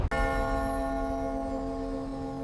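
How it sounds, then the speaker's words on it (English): A big city clock bell is struck once, loud and near, its deep metallic tone ringing on and slowly fading over a couple of seconds. "The bell rang across the city."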